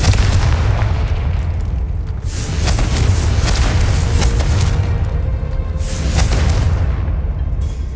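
Confringo spell explosions in Hogwarts Legacy, deep booming blasts that roll continuously, with two stronger crackling bursts around three and six seconds.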